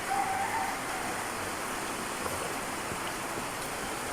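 A creek swollen by heavy rain rushes past in flood, a loud, constant broadband roar of churning water with no let-up, and a faint bird chirp near the start.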